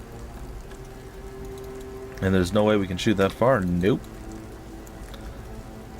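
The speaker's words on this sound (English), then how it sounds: "Why do we have to fight the undead in the rain?" Steady rain falls in the fantasy battle game Battle Brothers as an even, hissing wash that runs through the whole stretch, with a short burst of two people talking in the middle.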